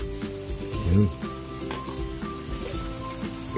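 Ingredients for sinigang sa miso sauté in a hot pan with a steady close sizzle and a louder swell of frying about a second in, over a constant tonal hum.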